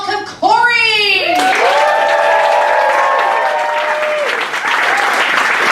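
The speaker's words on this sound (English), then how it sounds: "Please put your hands together and welcome Cory!" A comedy showcase audience bursts into loud, sustained applause welcoming a performer to the stage, dense clapping with scattered cheers, while voices talk and sing over the top.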